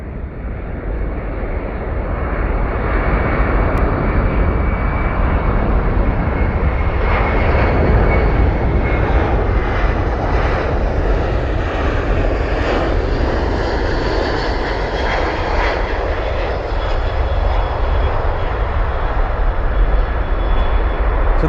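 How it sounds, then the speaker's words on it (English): Boeing C-17 military transport aircraft at RAF Mildenhall, a loud, steady jet roar that holds throughout with a slowly shifting rushing tone, heard alone without talk. "So that's an RAF C-17"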